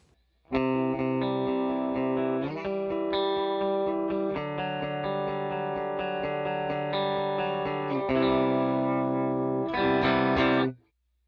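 An electric guitar played through an HX Stomp in a stereo setup with no reverb rings out in sustained, distorted chords with chorus-like shimmer, loud and alone, changing chords every couple of seconds before stopping abruptly.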